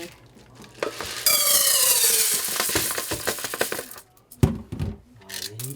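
Grains for Korean five-grain rice poured into a pot in a home kitchen, a dense rushing, rattling pour lasting a few seconds, close and fairly loud, followed by a few handling knocks.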